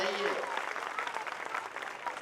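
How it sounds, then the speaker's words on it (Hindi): Audience applause at a live kavi sammelan poetry gathering during a Ganesh Mahotsav: a short, fairly soft stretch of continuous clapping from the crowd, with a voice briefly heard at the start. "एक बार जोरदार तालियां इनके लिए बजाइए।"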